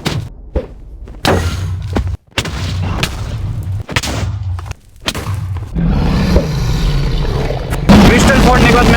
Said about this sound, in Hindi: और एक एक क्रिस्टल को फोड़ना चालू कर दिया।